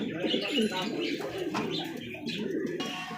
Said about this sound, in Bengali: আর এক জোড়া কবুতরের বিগ সাইজ বিশাল সাইজ একটা জায়েন্ট হুমা একটা জায়েন্ট কবুতর